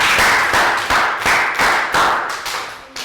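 A primary-school class claps in a lively burst, about eight to ten quick rhythmic hand claps in quick succession that sound close and fairly loud.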